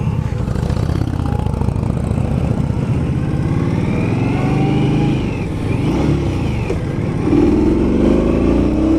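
An Indian Scout motorcycle engine runs loud and close while riding in traffic, holding a steady throbbing drone before climbing in pitch as it revs near the end.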